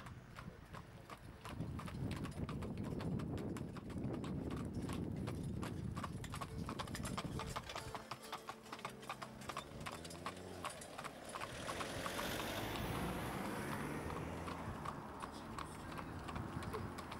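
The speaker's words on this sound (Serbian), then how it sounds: "Na pisti se našla i prethodnica svih motornih vozila, a to je kočija sa konjima." Horse hooves clip-clop steadily as a horse-drawn carriage moves along an airfield runway at an outdoor event, a continuous rhythmic clatter with crowd and ambient noise around it.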